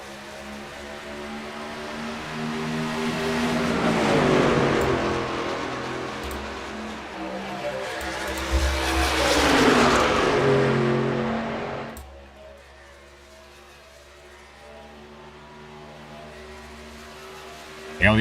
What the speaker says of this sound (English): Green flag, and we are back racing here at Kansas.